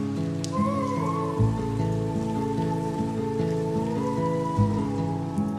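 Steady rain patters on a surface beneath a sustained, droning tonal hum, continuous and even throughout.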